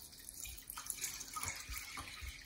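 Water running from a tap while tomatoes and cooked garlic are prepared for goat birria, a faint steady splashing stream with a few soft knocks and gurgles, quiet and alone.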